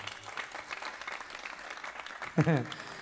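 Steady clapping from an audience at an Islamic Maulid Nabi lecture fills the room, moderately loud, with a voice cutting in over it toward the end.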